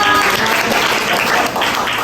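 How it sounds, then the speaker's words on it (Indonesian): An audience applauds at a university student project presentation, dense and loud continuous clapping filling the whole moment. "Tepuk tangan ya."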